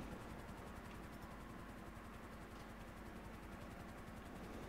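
Police helicopter flying in GTA 5, its rotor giving a steady, dense rhythmic chop under broad whooshing noise, constant and fairly close with no voices.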